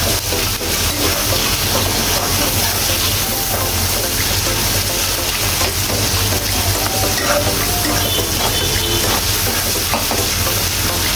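Leafy greens sizzle and hiss loudly in a frying pan already holding fried shrimp, onion, garlic and spices, with steady stirring and crackling throughout.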